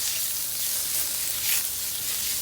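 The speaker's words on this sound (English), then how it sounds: "I'm gonna add the shiitake mushrooms. We're gonna let this cook for about 2 to 3 minutes" Shiitake mushrooms fry in a hot pan with a steady, close crackling sizzle that swells briefly.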